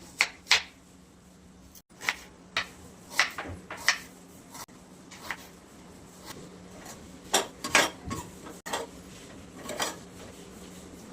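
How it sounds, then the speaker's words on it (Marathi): Knife chopping tomato and onion on a board in a home kitchen, a run of irregular sharp taps and thuds spread across the whole stretch, fairly close and moderately loud, with no talking. "तोपर्यंत मी कापून घेऊयात आपण टोमॅटो, कांदा."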